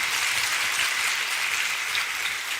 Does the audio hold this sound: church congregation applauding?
yes